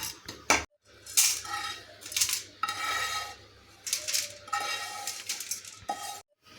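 Roasted dal, coconut and tamarind scraped from a kadai onto a plate, with bursts of metal spoon scraping and clinking against the pan, separated by short pauses, close and fairly loud.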